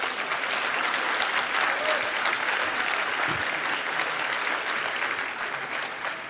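Sustained audience applause fills the space at steady loudness, a dense wash of clapping from a large crowd with no gaps, continuing without voices.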